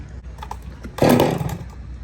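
A ported, non-stock chainsaw at a Paul Bunyan show gives a short loud burst of engine revving after faint lower-level engine noise.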